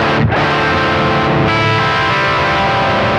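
An electric guitar through a Fuel Injector overdrive pedal rings out with thick, gritty sustained chords, high gain short of full distortion with clear note separation; a quick strum, then a new chord hangs and slowly fades.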